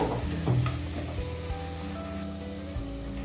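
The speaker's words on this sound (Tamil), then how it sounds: "தக்காளி கொஞ்சம் வதங்கிச்சு." Tomatoes sauté in a pan with a soft, even sizzle and occasional stirring scrapes over a faint steady hum. No talking occurs.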